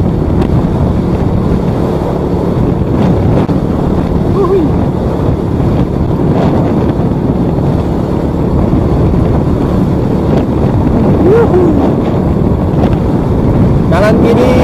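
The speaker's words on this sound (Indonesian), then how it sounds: "Kanan kiri persawahan, tapi anginnya kenceng, jadi suaranya pasti berempek. Kayak ditiupin ya" Strong wind buffets the microphone beside rice fields along a road from Majalengka toward Ciamis, a steady loud roar with low rumble throughout, while a voice speaks over it.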